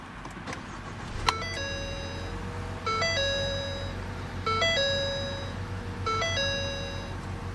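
A 2013 Ford Fusion Titanium 2.0T is push-button started: a short crank catches into a steady idle while a repeating electronic chime dings four times at regular intervals over the engine's low hum.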